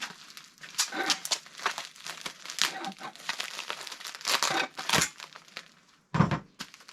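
Packing paper is crumpled, folded around an item and taped for shipping, giving close, irregular crinkling and rustling bursts with a brief sharper tearing rip near the end.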